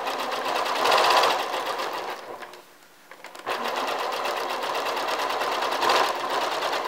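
A sewing machine stitching the side seam of a 1910s-style camisole runs in a fast steady whir, pauses briefly midway, then resumes at the same close, loud, even pace.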